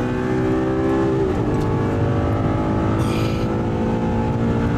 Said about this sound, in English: 140 kilometers per hour, down to second for the hairpin. In, and then third gear, in fourth.